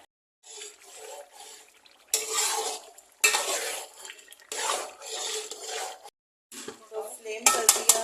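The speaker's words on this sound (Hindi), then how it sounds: "गरम मसाला ऐड कर दिया और इसको बहुत अच्छे से भुनाई कर रहे हैं।" Mutton masala with whole green chillies is stir-fried in a pot, heard as intermittent bursts of scraping and sizzling separated by short quiet gaps.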